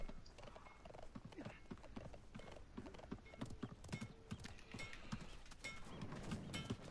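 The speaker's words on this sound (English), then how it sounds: "I'm hopping on my horse" Rhythmic hoofbeats of a galloping horse in the game Realm Royale pound steadily and fairly close, with no voices over them.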